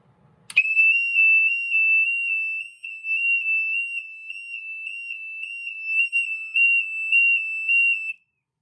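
A Safe House 49-470 security panel sounds its alarm after a motion zone is tripped: a loud, steady high-pitched electronic tone that starts abruptly and holds unbroken for about eight seconds before cutting off.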